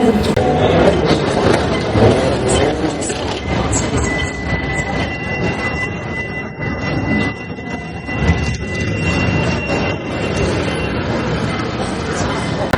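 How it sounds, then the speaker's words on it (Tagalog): An airport train at a station platform, heard as a steady loud rumble of rail transport with station noise throughout, and people talking over it. "Ayun na yung airport train."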